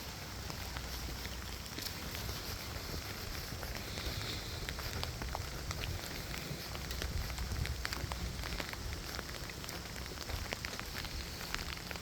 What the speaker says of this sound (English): it's drizzling a little bit, not too bad